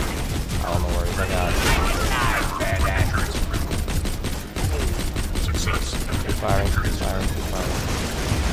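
Gunfire in Borderlands 2, a dense, continuous stream of shots and mechanical clatter running the whole time, with a brief dip midway, mixed with game effects and background voices.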